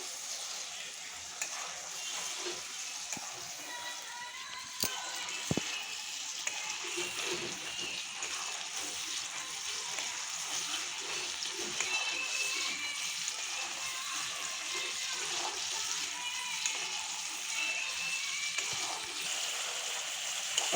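Ghee simmering and sizzling steadily in a pan, with an even frying hiss and occasional scrape of a stirring spoon, continuous and close throughout.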